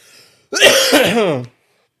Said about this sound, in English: If you're gonna cough, get it out now.